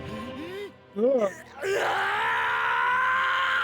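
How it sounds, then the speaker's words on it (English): A character in the PS2 game Berserk lets out pained, strained vocal cries: a short wavering yell, then a louder rising-and-falling shout, followed by a sustained rough, noisy cry that carries to the end. "I love that scream."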